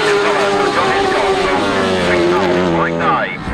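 A grasstrack sidecar motorcycle racing in a championship meeting accelerates out of a tight corner, engine whining and rising in pitch, loud and close, with a commentator talking over it.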